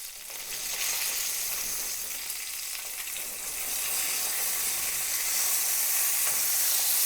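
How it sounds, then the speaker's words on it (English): Chicken sizzles steadily in a covered cast iron pan, a dense, bright frying hiss that holds throughout and grows slightly louder in the second half, with no talking. "Okay, well, this has been sizzling for a little while."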